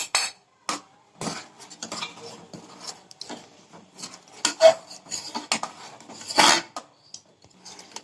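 Milk custard with chopped pistachios stirred in a pan, a metal spoon scraping and clinking against the pan in irregular bursts, close and fairly loud with short quiet gaps.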